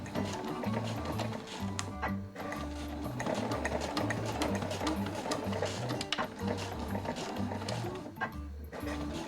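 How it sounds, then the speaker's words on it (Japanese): Close, continuous whirring of a sewing machine backstitching fabric for a zippered pouch, running steadily with rhythmic mechanical pulses and brief changes in pace. "持ち手とかポケットのところは返し縫いをします"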